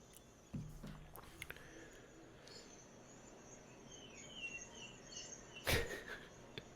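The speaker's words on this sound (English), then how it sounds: "I hear the birds." Birds singing outside, faint, scattered chirps and short calls with quiet insect-like trills over a low background, plus a few sharp clicks and a louder burst near the end.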